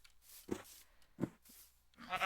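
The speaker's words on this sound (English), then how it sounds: "Dude, that's a pink sheep." A pink sheep in Minecraft Hardcore bleats three times in short, wavering calls spaced about a second apart, fairly quiet and alone over a near-silent background.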